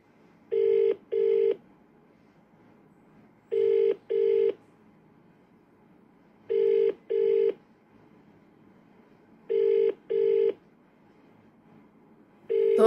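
A telephone ringback tone repeats in regular double bursts about every three seconds, clear and steady against quiet background, the call left ringing unanswered.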